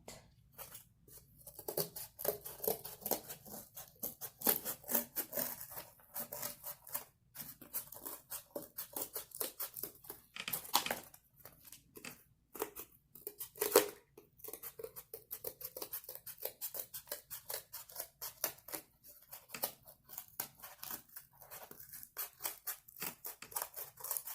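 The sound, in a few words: scissors cutting out a cardboard circle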